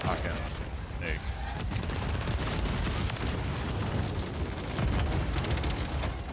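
Rapid SPAS-12 shotgun blasts in Call of Duty zombies, repeated sharp loud bangs amid a dense background of gunfire, explosions and game effects.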